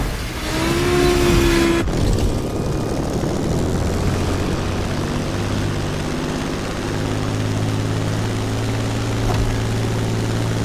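Propeller plane flying in The Crew Motorfest, a steady droning engine hum that holds loud and close throughout after a brief louder opening, with no talk.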